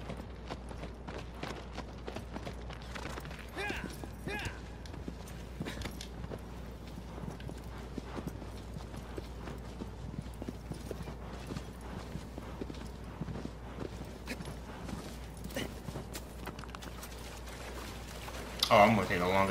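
Continuous clip-clop of horse hooves at a quick, steady pace runs throughout, fairly quiet, with a louder burst near the end, in the video game Shadow of the Colossus.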